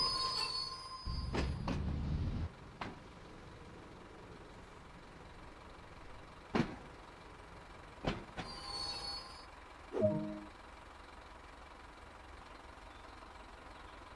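A train in Train Sim World 2 on the Island Line slows down, with low rumbling bursts, several sharp brake or coupling clanks, and brief squeals spread across a quiet stretch.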